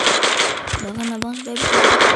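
UMP submachine gun fire in the Free Fire mobile shooter game, a fast burst of shots heard loud over continuous game sounds, with a voice talking nearby.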